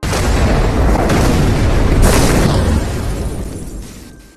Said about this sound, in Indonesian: namun tiba-tiba ledakan terjadi yang membuat semua orang di sana harus koit